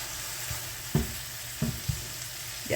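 Homemade breakfast sausage seasoned with ginger and black pepper fries in a pan, a steady close sizzle punctuated by a few soft thuds as it is moved and stirred, with no talking.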